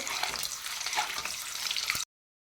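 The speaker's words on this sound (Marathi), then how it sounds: "आता आपल्याला ही अंडी छान लालसर रंगावर फ्राय करून घ्यायची आहेत" Whole boiled eggs, pricked with holes, fry in hot oil with a continuous crackling sizzle and a soft stir or two before it cuts off abruptly.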